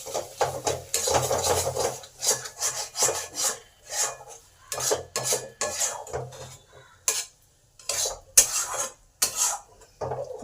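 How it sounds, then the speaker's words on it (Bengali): A utensil scrapes and rubs against a pan in repeated strokes as mashed pea peels are stirred with crushed fried nuts and broken fried lentil dumplings, close and rhythmic with brief pauses. "এবার সমস্ত কিছু একসঙ্গে নেড়ে নিলাম।"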